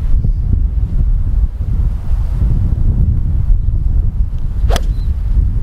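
Strong wind buffets the microphone on a golf course at Quinta do Lago's Laranjal Course, 11th hole, a steady low roar throughout with one brief higher whistle near the end.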